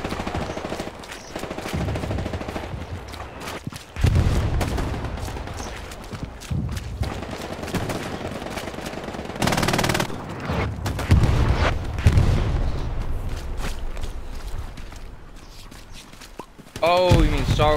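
Dense Battlefield gunfire rattles through in rapid bursts, punctuated by heavy booming blasts that surge and fade, with a tank battle in play and a voice talking over the chaos.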